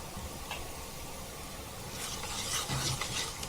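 Carom seeds (ajwain) drop into about one and a half spoons of hot cooking oil, giving a steady, soft hiss and crackle that runs throughout and swells slightly near the end.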